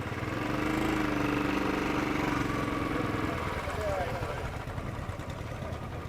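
A 2017 Royal Enfield 500 Classic runs in first gear with a steady, close engine drone that holds throughout and fades slightly toward the end, mixed with broad wind-like noise.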